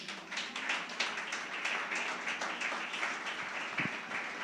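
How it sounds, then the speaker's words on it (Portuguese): A church congregation claps together in praise during a Portuguese-language worship service, a dense, steady wash of many hands that fills the room evenly from start to finish with no voices over it. "Aplauda ao Senhor."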